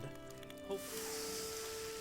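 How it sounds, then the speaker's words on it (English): Food sizzles over a cooking fire in Valheim, with a soft steady crackle that swells into a bright, broad hiss partway through and keeps going quietly with no voices. "when it's done, you're going to hear a distinctive sizzle sound"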